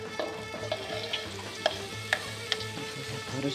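Onion sizzles and fries in a few spoonfuls of cooking oil in a pan, a continuous crackling hiss broken by occasional stirring scrapes and clicks, with no talking.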